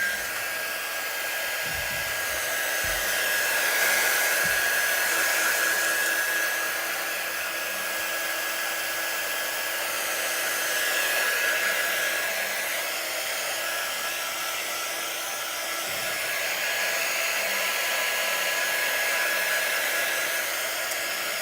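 A heat dryer blows steadily on a freshly peeled craft piece, a continuous airy whir with a thin high whine that holds for the whole stretch, swelling slightly at times, with no talking.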